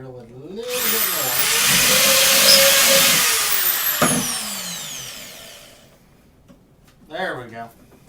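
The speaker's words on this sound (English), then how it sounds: "Let me drill it a little bit more." Power drill boring into a metal mailbox to fit rivets: a loud, rising whirring burst that builds and fades over several seconds, followed by a short second whir, with speech over it.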